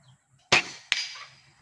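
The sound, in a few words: PCP air rifle firing a shot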